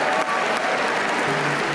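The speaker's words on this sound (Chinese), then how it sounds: "让全场响起热烈掌声" An audience at a climate summit breaks into steady, dense applause after the World Bank Group announces it will stop financing upstream oil and gas after 2019. The clapping is loud and sustained throughout.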